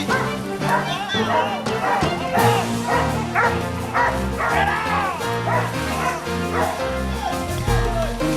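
A whole pack of dogs barks, yips and whines continuously and close by while flushing a big bull out of a Florida hammock during a cracker cattle drive, with voices mixed into the din.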